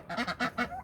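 An upset male turkey with a purple head gobbles close by in four quick, loud, throaty bursts, with no talking.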